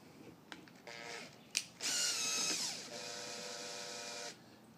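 A power drill spins a SeaDoo 787 oil pump in reverse, whining in short bursts and then holding a steady high mechanical whir for a couple of seconds before winding down, close and fairly quiet.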